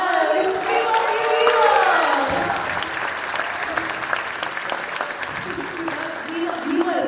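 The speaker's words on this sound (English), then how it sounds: "Let's give a round of applause for Mila" Audience applause and cheering at a Persian Students Association show at the University of Michigan, a loud sustained crowd roar with clapping that slowly fades, with a voice speaking over it.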